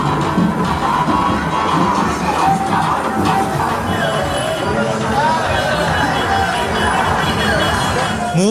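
Large crowd at the Nilambur election campaign finale, a loud, continuous roar of cheering, shouting and babble of voices filling the space, with scattered whistles and clinks throughout.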